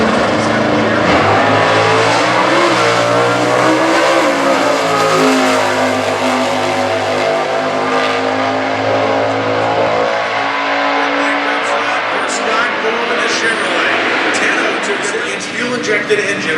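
Stock class drag race cars launch and accelerate at a national event, including a 426 Hemi with a single four-barrel carburetor, the engines roaring loud and rising in pitch before fading slightly, with a commentator talking over the noise.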